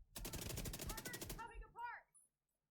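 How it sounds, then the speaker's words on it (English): A submachine gun firing in The Division 2, a rapid burst of evenly spaced shots lasting over a second, loud and close, followed by a short synthetic chime-like tail. "it's kind of weird that I can shoot from here with an SMG"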